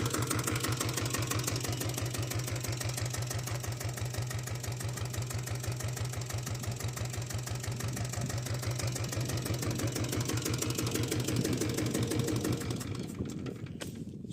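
A Royal Enfield diesel Bullet motorcycle engine running close by with a loud, rapid, steady thumping beat and little change in pace, heard alone throughout and cutting out just before the end.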